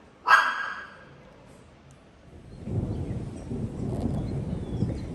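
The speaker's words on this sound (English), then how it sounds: "Can you hear the thunder?" A dog gives a single sharp bark up close, then a low distant rumble of thunder rolls in and keeps grumbling.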